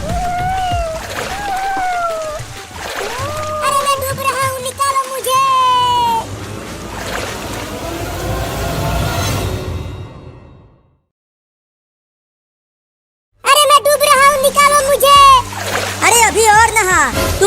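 Water from a bucket splashes during a household bathing scene. Close splashing and sloshing run under loud, excited voices for about ten seconds, then go silent, before talking and cries resume.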